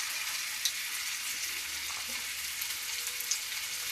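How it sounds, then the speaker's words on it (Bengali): Jackfruit kebabs dropped into hot oil in a wok, producing a continuous dense bubbling sizzle that stays steady and close, with a few faint clicks and no voices. "কড়ার তেলটা বেশ গরম হয়ে গেছে। এবার একটা করে এই কাবাবের শেপ মতন দিয়ে এর মধ্যে দিয়ে দেবো।"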